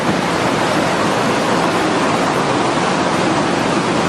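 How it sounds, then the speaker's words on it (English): Raging river rapids roar in a dense, continuous wash of rushing and splashing water, loud and unbroken from start to finish, with no voices. "The river raged around them, waves crashing, water splashing"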